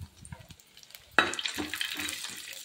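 Peanuts fry in a pan with onion and mustard seeds, a sudden loud sizzle starting partway through after a few soft clinks, continuing as a close crackling hiss.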